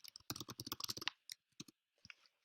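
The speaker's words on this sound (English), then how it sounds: "I can type in my name." Fingers type a name on a computer keyboard in a quick close run of crisp key clicks, followed by a few isolated taps after a short pause, with no talking.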